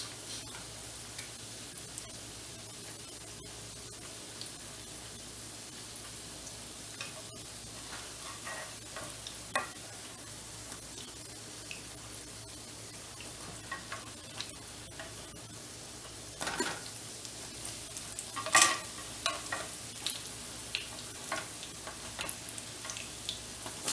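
Cinnamon French toast frying in a pan gives a faint, steady sizzle with scattered soft ticks and pops, quiet and close.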